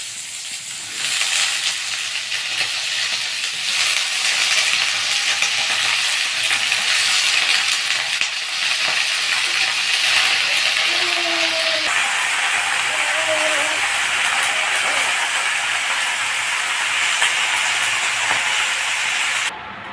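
Malabar spinach goes into a pan of fried vegetables and cooks in a loud, steady sizzle with bursts of crackling and stirring, heard up close for a long stretch.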